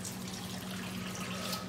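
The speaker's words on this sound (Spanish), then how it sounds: "Ahora le voy a estar agregando las 4 tazas de agua" Water poured from a container onto shrimp shells, four cups' worth, making a steady broadband rush and splash that holds unbroken and close throughout, with no talking.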